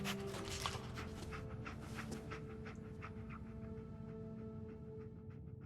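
A dog panting in the video game Fallout 4, quick rhythmic breaths repeating steadily throughout over a low game background hum, fairly close and moderate, with no speech.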